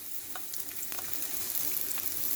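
Sliced onions fry in a pan with a steady, bright sizzle, joined by a few light scrapes of a spoon, close by and alone.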